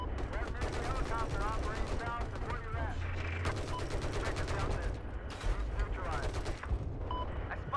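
Rapid machine-gun bursts and heavy booming shots fill a video game battle, with overlapping volleys and rumbling blasts; voices talk over the gunfire throughout.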